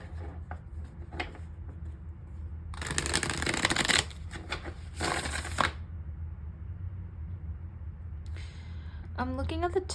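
Tarot cards being shuffled and laid out, with two loud bursts of riffling and softer taps and slides around them, under a low background hum.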